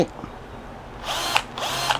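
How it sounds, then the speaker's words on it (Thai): Electric drill fitted with a 6 mm bit boring into wood, quiet at first then two loud whining bursts as the bit bites in, with no talk over it. "แต่คราวนี้เราจะเจาะไม้อันนี้เป็นดอกสว่าน 6มิลิเมตร"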